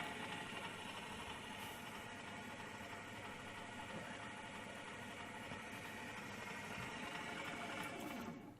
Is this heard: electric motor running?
yes